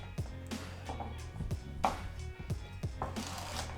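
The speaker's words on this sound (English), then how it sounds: "We create ourselves a flat surface just by slicing something like this." A knife slicing through carrots on a cutting board while prepping a Tuscan soup: a series of crisp, evenly spaced chops and taps against the board, close and clear, with no speech.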